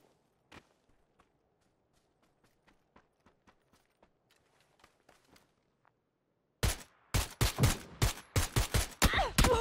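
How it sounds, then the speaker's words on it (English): Gunfire in the battle-royale game PUBG on console: faint, scattered distant shots for several seconds, then a sudden burst of loud, close rapid gunfire in quick volleys. "There were three different people shooting at me."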